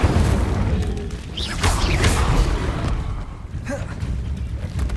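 An Incendio fire spell erupts in Hogwarts Legacy, a loud, sustained roaring blast with deep booming rumble and crackling bursts that swell and fade across several seconds.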